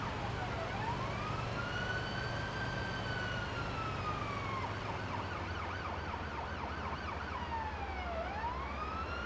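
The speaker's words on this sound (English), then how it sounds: "I would really love the devs to fix the siren a little bit" An ambulance siren in the game Ambulance Life wails in long rising and falling sweeps, steady and continuous over a low engine hum, with no talking.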